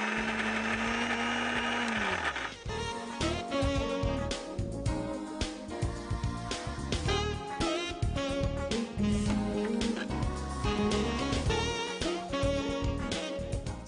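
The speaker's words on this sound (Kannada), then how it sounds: "ಇದು ಮಿಕ್ಸಿಗೆ ಹಾಕೋಣ." A kitchen mixer grinder whirs into action blending curry leaf chutney, its motor starting after a brief quiet hum and then roaring loudly with rapid pulsing, grinding bursts for over ten seconds.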